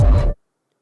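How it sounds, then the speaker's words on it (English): A short, punchy VR game hit effect for the player getting hit: a dense burst with a low thump that cuts off abruptly after about a third of a second, followed by silence. "This is the sound of you getting hit."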